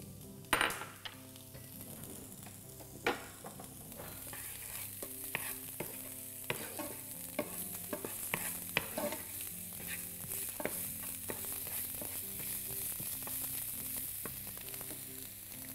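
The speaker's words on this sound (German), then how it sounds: "Und wir werden jetzt 2 Minuten lang unsere Zwiebeln und unseren Knoblauch anbraten." Onions and garlic sizzle steadily in a hot pan while a utensil stirs and scrapes now and then, with occasional light clinks.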